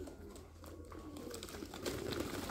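Pigeons on a pigeon farm coo steadily in a low, continuous murmur, with many overlapping birds close by and the sound growing a little louder toward the end.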